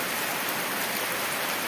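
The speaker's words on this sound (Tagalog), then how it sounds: "Ayan o, naliligo sa ulan." Heavy rain pours down outdoors where children are bathing in it, a loud dense wash of even hissing noise with no breaks and no voices.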